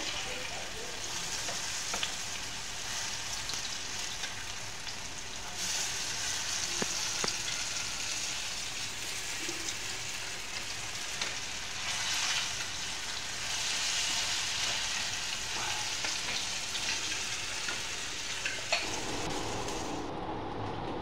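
Pitha sizzles steadily in hot oil as a homemade snack fries, a continuous crackling hiss with brief stir and flip disturbances, close and fairly loud throughout with no talk.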